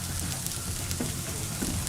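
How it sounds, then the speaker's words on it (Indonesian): Wrapped parcels for Selat Solo frying briefly in hot oil, a dense, continuous sizzle with small crackling bursts, loud and close, with no talking. "Kita ngebungkusnya harus dimasak dulu sedikit, kita goreng."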